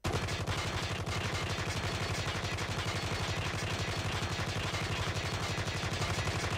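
A Holger 26 converted to an SMG fires a sustained full-auto burst in a video game during a recoil test. The shots come in a dense, rapid, unbroken stream that stays loud and close for several seconds.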